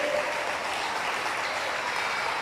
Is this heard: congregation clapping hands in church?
yes